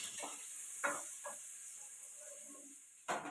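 Onions and green chilies sauté in oil inside a pressure cooker, giving a faint, even hiss broken by a few soft stirring knocks, with no voices.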